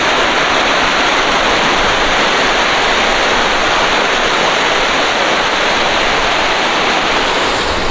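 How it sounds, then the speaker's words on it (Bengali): A strong, fast river current near a waterfall, loud and steady broadband rushing water that fills everything with no pauses. "আর এদিকে স্রোত দেখো, জলের স্রোতটাই আলাদা"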